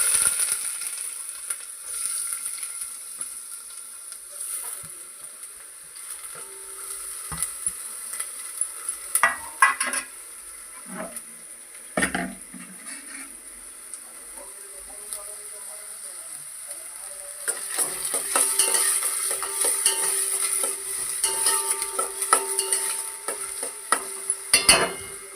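Onion frying in hot oil in a heated pot, sizzling steadily with repeated scraping stirs and a sharp burst of hiss when it first goes in, close and moderately loud, with no talking over it.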